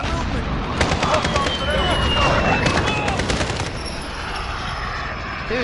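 Dense, sustained automatic gunfire in a Call of Duty multiplayer match, loud rattling bursts over a constant battle din with aircraft noise.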